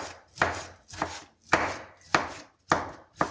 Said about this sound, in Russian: Сейчас я измельчаю помидор.